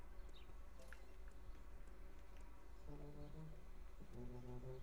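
A steady, faint insect-like buzzing of a wasp camera in the video game Simpsons Hit and Run drones throughout, with a few higher tonal blips layered over it near the end.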